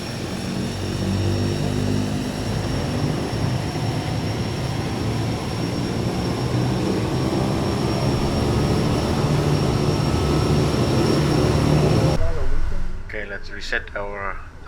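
A Kodiak 100 turboprop in Microsoft Flight Simulator 2020 drones steadily at close range with an even propeller roar. The engine cuts out abruptly near the end, and a few faint clicks follow.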